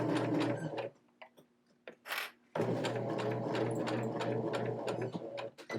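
A sewing machine stitches around the edge of a small fabric hexagon keychain in close, steady bursts, pausing about a second and a half mid-seam for a turn before running on again.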